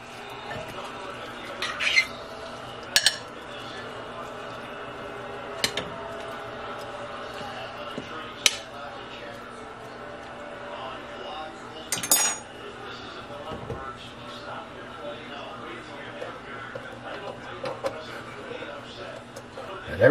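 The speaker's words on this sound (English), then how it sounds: "Stir everything around." A spoon stirs cheesy broccoli and leek soup in a pot, making irregular clinks and scrapes against the metal over a low kitchen background, with voices faintly in the background.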